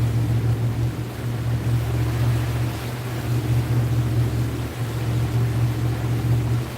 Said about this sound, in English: I'm going to start bringing my engines up a little bit.